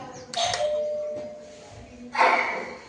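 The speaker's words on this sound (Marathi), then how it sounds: "अशी वाजते गाईज बेल" A doorbell in a house rings in two chimes, a ding followed by a dong about two seconds apart, close and clear, each tone ringing out and fading.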